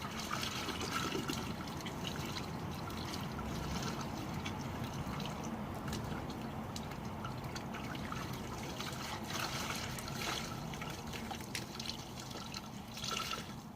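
Steady splashing and trickling water throughout as laundry is swished and rinsed by hand in a basin, continuous and close with no talking.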